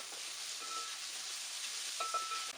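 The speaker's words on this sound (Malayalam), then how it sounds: "ഇനി ഇതിലേക്ക് നമ്മൾ നേരത്തെ മാറ്റി വെച്ച സവാള ചേർത്ത് കൊടുക്കാം." Onions with a pinch of salt sautéing in a pan for chicken curry, giving a steady, soft sizzle close by, with a few faint stirring scrapes near the end and no voices.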